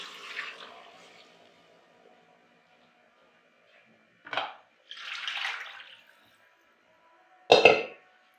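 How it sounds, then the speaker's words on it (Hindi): Beef stock poured into a pot of browned beef trotters, a few separate splashy liquid bursts with quiet gaps between them, fairly close. "ये यखनी निकाली थी वो इसके अंदर डाल देंगे।"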